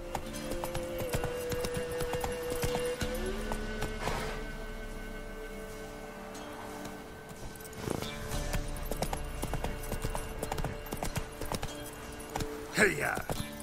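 Horse hooves clip-clopping at a gallop in The Witcher 3: Wild Hunt, a steady rhythmic patter that runs through the whole stretch under game music and ambience, with a louder clatter near the end.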